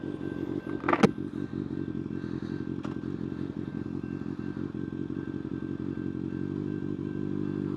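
A Kawasaki ZX6R motorcycle rides at dusk with a steady, close engine drone, with a sharp thump and rattle early on over the continuous hum.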